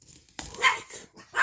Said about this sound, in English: Oh, dogs are all pissed off apparently too.